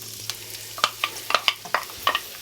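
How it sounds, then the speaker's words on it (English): Onions sizzle in hot rice bran oil in a pan, a close, crackling fry broken by sharp stirring clicks and scrapes at irregular intervals. "Here we are, the sizzle."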